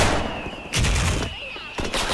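Gunfire from the online shooter Special Force, with bursts of broadband shots in two clusters over a steady game background tone, loud and close.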